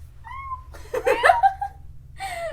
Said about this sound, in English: That is our cat,